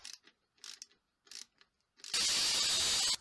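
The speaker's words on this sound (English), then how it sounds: "Now I'm going to pre-drill a couple more holes and attach these permanently together" Drill pre-drilling holes in mannequin parts: a few short mechanical bursts with pauses, then a loud continuous whir running steadily to the end, close up.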